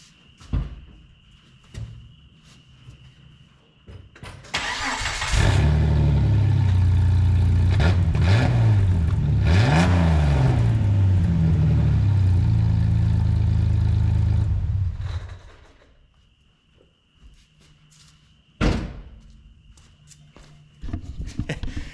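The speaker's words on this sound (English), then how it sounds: "If you don't start your car with the exhaust cut off after the catalytic converter" A Jeep TJ engine cranks and fires with the exhaust cut off after the catalytic converter, erupting into a loud, raw, rasping roar for about ten seconds with a wavering rev before dropping off to quiet, with a few thumps and clatters after.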